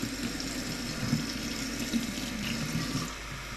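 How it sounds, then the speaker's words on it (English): Steady rush of warm water running from a tap, continuous and close, with no talking. "You need 1/2 cup of water, warm water."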